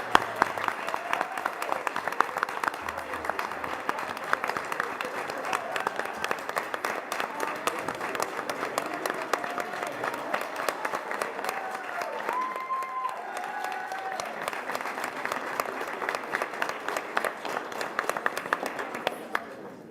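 Sustained applause fills a school board of education meeting as a crowd claps for a cheer program. The clapping is dense and steady for about twenty seconds, with a few faint voices underneath.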